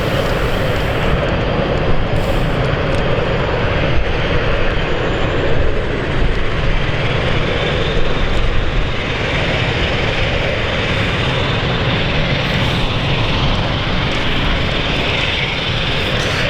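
A Luxair Dash 8 turboprop's propellers start up in strong winds, giving a loud, steady engine drone mixed with heavy gusting wind noise and no talk.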